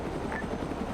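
A video game helicopter drones steadily with a low rotor rumble, close and constant across a brief moment, with no talking.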